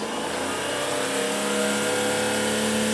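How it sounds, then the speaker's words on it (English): A car engine with its stock exhaust revs steadily in a close, continuous mid-range drone that holds a buzzy, even tone through the short stretch, with no voices. "Here's the stock exhaust."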